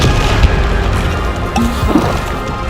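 A Bombarda blast spell in Hogwarts Legacy lands with a loud, crunching impact that breaks into splintering debris. It sits on a busy, continuous game soundscape, and a softer thud follows a moment later.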